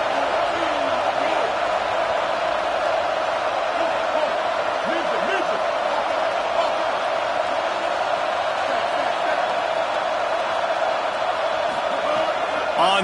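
Home stadium crowd in the College Football 27 video game roars steadily, a dense continuous wall of cheering that stays loud and unbroken throughout, with faint higher whoops poking through the wash.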